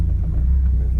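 A car engine runs steadily at low revs while the vehicle reverses during clutch bleeding work, a continuous close rumble with no speech.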